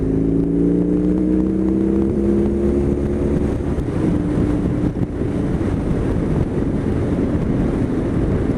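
A 2021 BMW R18 First Edition motorcycle accelerates to 70 mph on a dual carriageway. Its low engine drone rises steadily in pitch beneath loud, constant wind roar across the microphone, with no voices.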